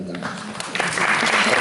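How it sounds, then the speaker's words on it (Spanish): Applause from the audience at a theatre conference breaks out for a team administrator and swells steadily louder over a second or two, with a voice underneath. "les pido que la aplaudamos"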